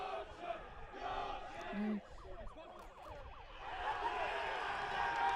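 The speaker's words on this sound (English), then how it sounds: "And you can really hear the York crowd right now" A home crowd at a York rugby union match cheers and chants outdoors, a rising mass of voices with whistling tones, moderately distant and building toward the end.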